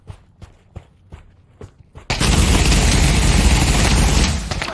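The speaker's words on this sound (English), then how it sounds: "Oh, is that the MG42?" MG42 machine gun fires in Pavlov VR, a sustained loud continuous burst roaring in after a few soft footsteps, holding steady for several seconds before tapering slightly.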